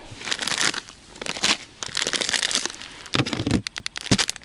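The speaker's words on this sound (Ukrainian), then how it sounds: "будемо місити прикормочку" Crinkly, crunching handling noises come in irregular bursts, close up, as dry crumbly fishing groundbait is squeezed and kneaded by hand.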